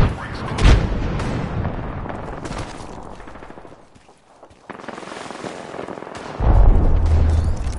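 Frag grenade blast in Apex Legends amid game combat: sharp loud booms near the start and a heavier explosion toward the end, with gunfire-like bursts and rumbling in between.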